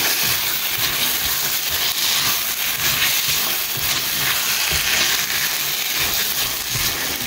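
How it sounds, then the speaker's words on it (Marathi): Green peas stirred into a cashew paneer gravy in a pan, giving a steady close sizzle with scraping stir strokes throughout, no talking. "आतां हितून घालता हांव ग्रीन पीस."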